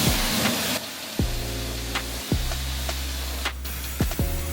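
A car wash pressure washer sprays heated water in a steady hiss, with repeated sharp tonal sweeps from the machine cycling several times over a low mechanical hum.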